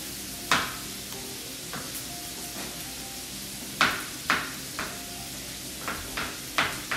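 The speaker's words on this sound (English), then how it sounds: "one more pepper, and we'll give this thing another stir" Paella being stirred in a pan with peppers added, a steady sizzle of frying underneath and scattered scraping and clinking strikes of the utensil against the pan, several sharp knocks in close succession near the end.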